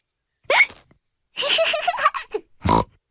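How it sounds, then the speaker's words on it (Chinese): A cartoon piglet from Peppa Pig hiccups, with two sharp, squeaky hiccups separated by a burst of character chatter. "乔治的打嗝让他们没办法玩了。"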